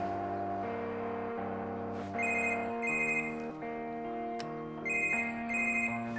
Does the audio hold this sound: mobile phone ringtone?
yes